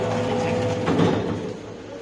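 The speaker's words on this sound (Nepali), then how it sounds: "यो हाइड्रो अथवा ड्रायर मेसिनको काम" A hydro dryer machine spins water out of sliced potatoes at a potato chips factory, giving a steady loud mechanical whir and hum with a continuous drone throughout, close up.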